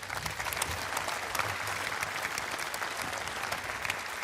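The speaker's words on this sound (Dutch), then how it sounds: "voor alle sprekers een applaus voor het delen van zulke belangrijke verhalen vanmiddag" Steady, dense applause from a large outdoor audience at a national slavery commemoration at the National Monument, even in level and somewhat distant, continuing unbroken without speech.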